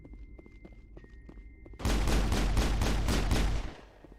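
Pistol gunfire in the Mass Effect video game: a dense, loud burst of rapid shots begins about halfway through and runs for nearly two seconds, after quieter scattered thumps and clicks.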